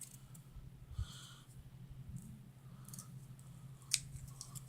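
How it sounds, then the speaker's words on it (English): Scissors snip through a paper card to cut off two small ears, quiet close cuts with a couple of sharper crisp snips against a faint background hum. "We're going to cut these 2 ears off."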